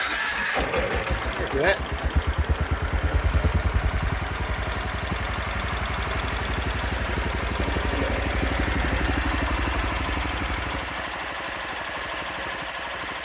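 An Allis Chalmers 712 riding lawnmower engine cranks and catches with rapid, loud knocking pulses, then settles into a steady, rattly idle before dropping to a lower hum, with a brief word spoken near the start.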